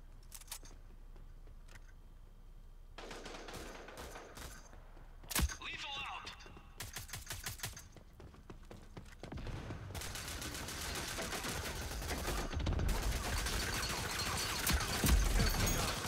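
Rapid bursts of weapon fire in the shooter game Rogue Company, with dense repeated shots clustered in volleys and growing louder toward the end, alongside intermittent talking.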